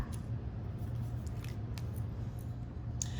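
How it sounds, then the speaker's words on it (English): Scissors snip steadily through paper while following a pencil line, giving a close, continuous crisp cutting sound with soft repeated blade closes over low background rumble. "I am cutting around that pencil line"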